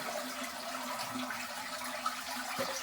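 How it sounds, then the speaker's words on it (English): A toilet running a full flush in a freshly renovated bathroom, a steady rushing swirl of water that holds at moderate level without any talking, with a couple of small knocks near the end. "Did you hear that? Full flush."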